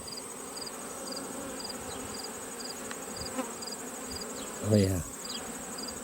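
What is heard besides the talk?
honey bees buzzing in an agitated hive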